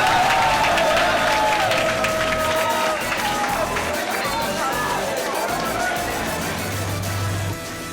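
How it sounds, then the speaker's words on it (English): Crowd applause at a school annual day event for parents and teachers, with clapping and cheering under a speaking voice over a PA, fading out near the end. "let's give a big round of applause to both parents and teachers"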